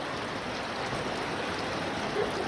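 Floodwater rushes steadily along a street gutter during heavy rain, a continuous close hiss of flowing water with no pauses.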